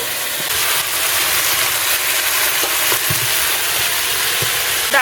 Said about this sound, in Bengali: শুকনো লঙ্কার গুঁড়ো দিয়ে হালকা ভেজে এবার আলুটাকে দিয়ে দেবো এর মধ্যে